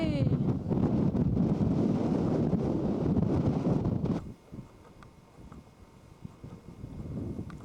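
Strong wind gusts buffet the microphone at a high mountain overlook on the Tanawha Trail near Rough Ridge, loud and rumbling for about four seconds before dropping to a quieter, steady breeze.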